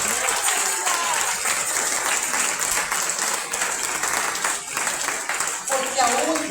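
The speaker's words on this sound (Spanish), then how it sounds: "aplauso fuerte al Maestro" Loud sustained applause from a church congregation during a sermon, dense clapping filling the whole stretch with steady intensity and small swells.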